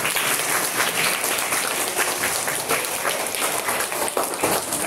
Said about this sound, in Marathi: ते दोघांसाठी जोरदार एकदा टाळ्या आपल्या सर्वांनी वाजवायचे